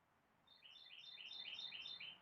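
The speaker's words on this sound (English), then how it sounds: "You can hear the birds." Small birds chirp in a vegetable garden, a faint run of quick, high repeated tweets over quiet outdoor background hiss, with no talking.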